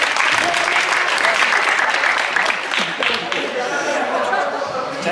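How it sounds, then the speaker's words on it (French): A crowd at a Paris sports tournament applauds steadily and loudly for several seconds, a dense wash of clapping with chatter and a few voices mixed in. "Je peux les applaudir."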